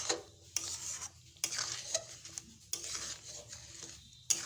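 Sweet potato payesh with coconut stirred in a pot, a spoon scraping and swishing through the thick pudding in repeated strokes with light clinks against the pot, close and moderately quiet with no talking.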